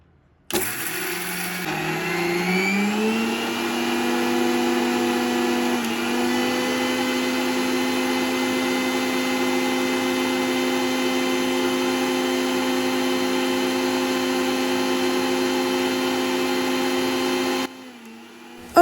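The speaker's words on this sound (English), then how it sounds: "So guys, let's start blending." VTCL blender with a small cup grinding raw egusi seeds, a loud steady motor whine that rises in pitch as it spins up, holds for about fifteen seconds, then cuts off abruptly.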